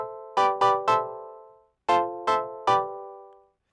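Percussive synthesizer patch, played as two phrases of three sharp, bright, harmonically rich stabs, each decaying quickly, heard alone.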